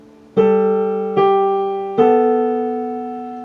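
Solo piano plays the second measure of a song, three firm chord strikes spaced evenly, each sustaining and fading slowly, heard close and clean with no voices.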